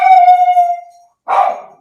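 A small dog lets out one drawn-out, whining howl-like bark that fades away, then after a short pause gives a second, rougher and shorter bark, both close and loud.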